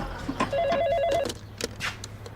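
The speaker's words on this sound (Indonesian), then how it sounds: "tiba-tiba dia mendapatkan telepon dari seorang pria yang menyampaikan kabar tentang tewasnya Oli dan Cheryl." Telephone rings with a short warbling electronic trill, one burst close and clear in a quiet room, followed by faint handling and movement sounds.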